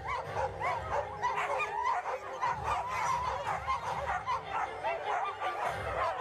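Many sled dogs bark and yip excitedly together at a mass-start race in the snow, a dense, continuous chorus, fairly close, with overlapping high-pitched cries.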